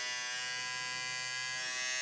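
A TPOB GO hair clipper running at its 9,000 RPM boost setting, a steady high-pitched electric buzz with a dense whine, close and continuous on its own.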